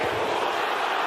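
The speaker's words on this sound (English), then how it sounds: "And now the crowd chanting support for Usyk as Dubois is backing up." A boxing arena crowd roars and chants for Usyk during his heavyweight fight with Dubois, a loud, dense wall of massed voices filling the hall in a brief burst.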